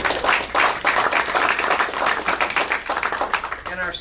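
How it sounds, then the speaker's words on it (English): Audience applause for veterans at a Bartow County GOP gathering, clapping in uneven bursts that swell and dip, with a voice or two mixed in near the end. "Let's give these folks a round of applause."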